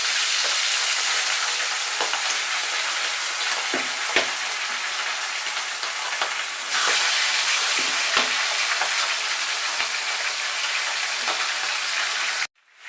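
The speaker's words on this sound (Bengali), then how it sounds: "এবার ওই কড়াইতেই মাছ ভাজার জন্য আমি পরিমাণ মতো তেল দিয়ে দিলাম" Large fish heads frying in plenty of hot oil in a wok, a dense continuous sizzle with occasional stirring knocks, close and loud, with no talk.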